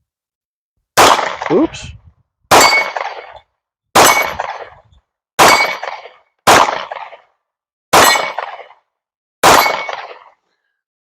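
Seven loud pistol shots ring out against steel dueling tree targets at about 20 yards, each crack followed by a metallic clang and short ringing decay, evenly spaced with pauses between; a brief spoken word is heard once.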